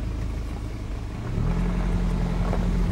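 A BMW engine idles with a steady rumble, then the low drone rises and holds as the car is put in drive and pulls away.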